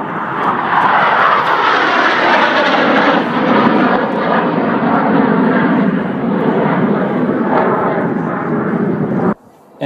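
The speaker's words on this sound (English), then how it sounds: "what you've got here is a fast pass with probably about a 4G pull at the end" A fixed-wing military jet makes a fast pass at the Temora air show, ending in a hard pull of about 4G: a loud, continuous broadband roar holding steady for about nine seconds before cutting off abruptly near the end.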